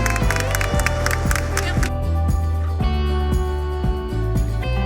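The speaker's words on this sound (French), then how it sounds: "Et c'est la fin de ce match, on peut les applaudir." An audience at a French robotics cup match applauds in a loud, continuous wash of clapping, laid over music with a steady pulsing beat.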